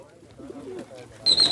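Pigeons kept by a fancier make soft, low cooing murmurs, followed by a sudden sharp high call near the end.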